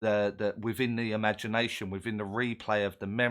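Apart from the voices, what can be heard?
No distinct noise like a dog, phone or traffic.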